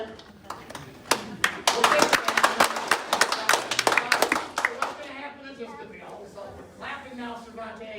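An audience at a police award ceremony claps in a burst that swells to dense applause, then thins into scattered claps and taps. A few voices murmur beneath it.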